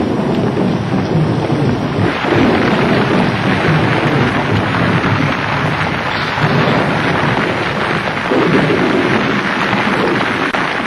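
A heavy, continuous wash of rain with low thunder rumbling beneath it, loud and unbroken from start to finish.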